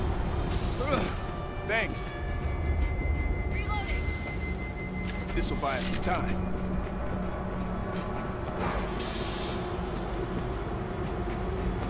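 A train starting up and backing up in the video game World War Z, rumbling and clanking with metallic screeches and squeals over a steady low drone, under talk and game noise.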